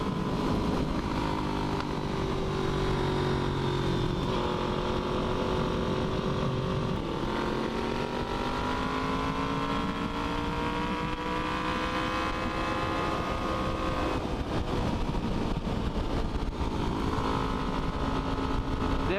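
Despatch tracker motorcycle engine droning loud and close through its exhaust, with revs rising and falling as the throttle rolls on and off, popping crackle mixed into the constant roar.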